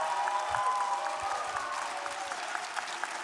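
Crowd applauding at an esports major grand final, a steady patter of clapping from a distant audience filling the hall, with no speech over it.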